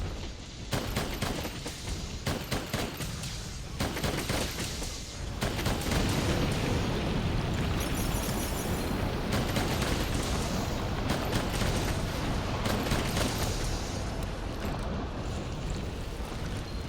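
Sustained volley of gunfire from a hunter shooting at Kulve Taroth's arm in Monster Hunter World, dense rapid shots and booms forming a continuous loud barrage.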